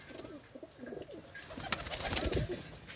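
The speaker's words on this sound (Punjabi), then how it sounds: "ਲੋ ਜੀ ਆ ਕਬੂਤਰ ਆ" A home-breed pigeon on a fancier's rooftop coos repeatedly in low, throaty rolling phrases, close by, with a few sharper chirps near the end.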